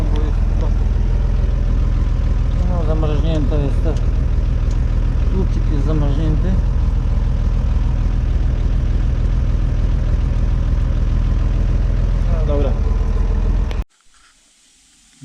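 A scrapyard tractor, model 3030, idles with a steady low diesel rumble throughout, broken by a few short squeaky chirps, then cuts abruptly to near silence just before the end.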